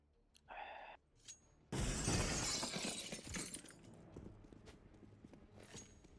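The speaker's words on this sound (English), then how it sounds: "They kind of have tradition of breaking the glass in the beginning of the round." Counter-Strike: Global Offensive on the Train map: a brief tone, then a loud glass window shatters with a burst of falling shards that tinkle and fade over a few seconds.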